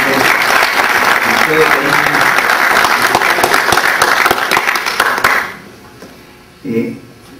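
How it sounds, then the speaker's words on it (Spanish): Audience applause for an honoree at a tribute ceremony for a university's first graduating class, dense and steady for about five seconds, then cutting off, followed by a brief murmur. "Por eso también a Carlos Caroso, un aplauso para ti."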